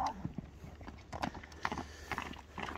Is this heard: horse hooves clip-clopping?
yes